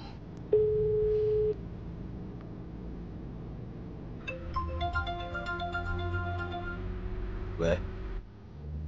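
A phone call on speakerphone gives a short single tone, then a longer run of ringing tones, heard nearby with people talking over and around it.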